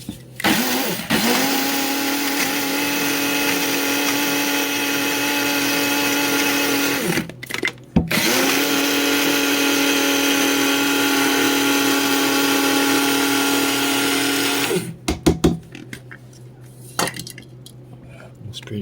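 Almonds being chopped in a blender, a loud steady whirring grind that runs for about seven seconds, stops briefly, then runs again for another seven before cutting off into quieter clatter.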